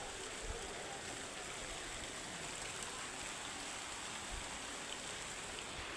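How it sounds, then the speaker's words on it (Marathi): Rain pouring steadily at night during a windy storm, a dense, even hiss of falling water with no breaks, fairly faint and distant, with no voices. "पाऊस येऊन राहिला."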